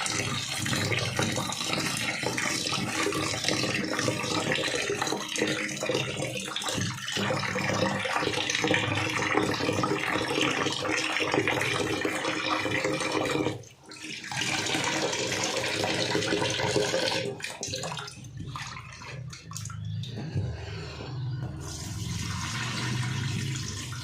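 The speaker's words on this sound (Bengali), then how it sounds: "চলো চালটা ধুয়ে নিই আগে।" Rice being rinsed by hand in water in a home kitchen, with steady running-water and sloshing sounds throughout, a brief pause in the middle, then more splashing and pouring near the end.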